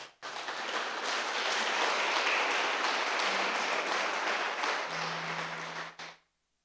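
A church congregation gives a burst of applause during a sermon, with even, sustained clapping from many hands that starts abruptly, holds steady for about six seconds, then cuts off.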